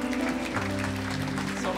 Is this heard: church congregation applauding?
yes